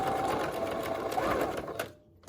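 Sewing machine running a few backstitches across fabric for a homemade filter mask, a close, steady fast mechanical whir that cuts off abruptly near the end.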